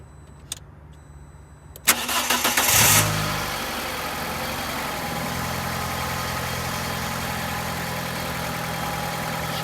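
A Fiat 500 C cranks briefly after a few clicks and fires up, revving for a moment before settling into a steady close idle, with no voices.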